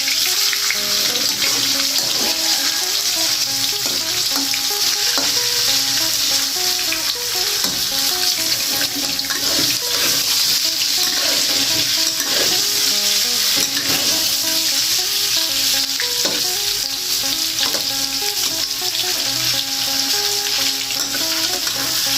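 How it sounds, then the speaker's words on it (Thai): White tofu fries in a pan of hot oil, giving a constant dense sizzle with scattered small pops and crackles throughout, close and loud without speech. "น้องก็สิมาทอดเต้าหู้ก่อนนะจ๊ะเนาะ"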